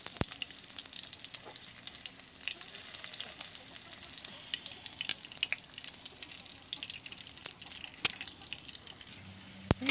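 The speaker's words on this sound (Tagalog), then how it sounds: "nasusunog na yata ang aking tuyo" Dried salted fish sizzles steadily in a pan over a wood fire in a rural kitchen, a soft continuous crackle with occasional louder pops.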